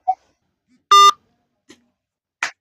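A single short electronic phone beep from a disconnected call, sharp and clear in near silence, with a few faint clicks around it.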